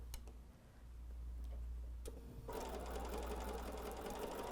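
A sewing machine stitches a bubble quilt: a few light clicks first, then steady, rapid mechanical stitching starts partway through and runs close and even to the end.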